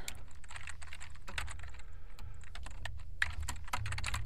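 Someone types steadily on a computer keyboard, the clicks close and quick in uneven bursts with short pauses, quiet and with no one talking.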